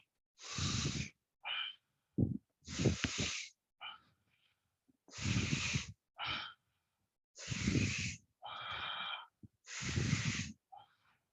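Slow yoga breathing during a power yoga session: paired breathy inhales and exhales repeat in about four cycles, close and fairly clear. Brief pauses separate each cycle, and no one talks.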